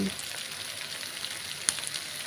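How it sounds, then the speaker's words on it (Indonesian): Food seasoned with sugar, salt, sweet soy sauce and oyster sauce frying in a pan, with a steady sizzle and light stirring, plus a single sharp clink near the end. Close and moderately quiet, no talk. "kemudian kita aduk sampai merata, dan ini kita masak dulu sebentar"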